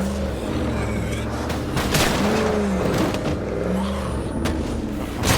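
A car engine in the zombie survival video game State of Decay 2 rumbles and revs with wavering tones, mixed with booming impacts and sharp bursts like gunfire.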